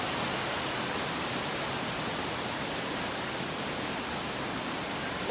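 Mimbalot Falls pours with a steady, broadband rush of falling water, a constant hiss at moderate level with no talk over it.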